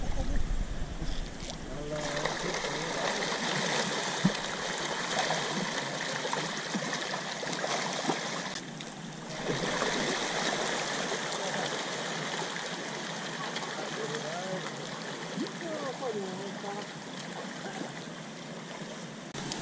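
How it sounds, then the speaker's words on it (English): Water rushes steadily through Kong Lor Cave in Laos, a broad continuous wash heard from a boat inside the cavern, with occasional voices talking over it. "You can hear the water rushing."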